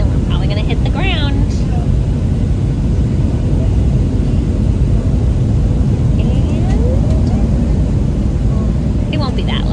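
An airplane comes in to land on a runway, with a steady, loud broadband roar of cabin and engine noise filling the whole stretch and occasional faint voices underneath.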